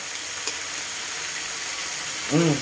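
An egg frying in a pan over low heat, a steady soft sizzle running throughout, close and continuous, with a brief tonal voice-like sound near the end.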